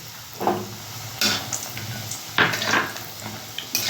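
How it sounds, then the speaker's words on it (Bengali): Small lentil dumplings (bori) fry in hot oil with a close, steady sizzle broken by several louder bursts of crackling and the clatter of a utensil stirring in the pan; no talking. "তেল গরম হয়ে গেছে প্রথমে বড়িটা ভেজে নেব লাল লাল করে"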